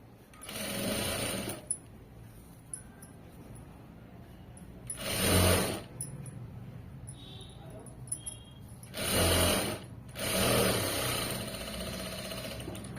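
Home sewing machine stitching fabric in short bursts: three or four quick whirring runs of a few seconds each, separated by quiet pauses with small clicks and handling noises, fairly close and alone.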